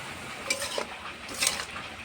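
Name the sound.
stirring sugar into stem vegetable chachchari in pan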